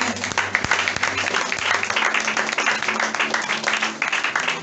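Church congregation applauding during a French-language worship service, a dense, steady wash of many hands clapping that carries on throughout at full volume with no pauses.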